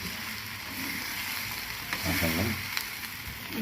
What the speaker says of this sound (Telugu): బాగా ఫ్రై చేసుకొని పచ్చివాసన పోయే వరకు ఫ్రై చేసుకోవాలి